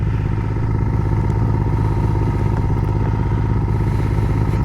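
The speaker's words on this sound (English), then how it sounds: "Just letting the bike warm up or whatever." A motorcycle idles after a cold start in downtown Dallas, its engine thumping in a loud, steady, even rhythm close by, with no talk over it.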